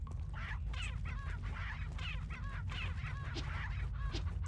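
A chicken clucks repeatedly in Resident Evil 4, a run of short, close, pulsing clucks over a steady low background hum of game ambience.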